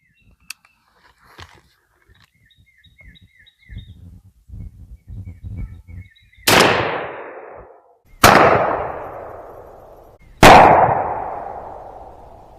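A .410 bore shotgun with a 26-inch barrel firing 2.5-inch Federal Hi-Brass game loads with No. 6 shot outdoors: three loud, sharp blasts about two seconds apart, each trailing off in a ringing decay, after quiet handling sounds.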